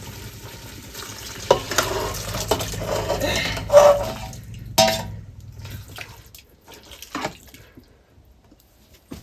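Mutton pieces with masala frying and being stirred in a pot, spoon scrapes and knocks with a soft sizzle, loud at first then fading to quiet.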